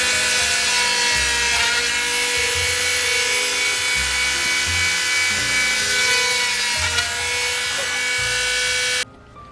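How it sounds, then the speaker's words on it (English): A small drill motor whines steadily at high pitch, pulsing as it bites through a small canvas in short bursts, close and loud, then cuts off at the end. "I just pop a couple of holes in here, and I just use a little drill motor to do it"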